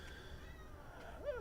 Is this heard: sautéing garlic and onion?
no